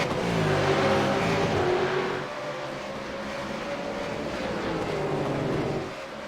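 Race cars racing at Bathurst in the AOSC Super Series, a loud continuous roar of engines passing and accelerating, with dense broadband noise that swells and dips slightly over several seconds.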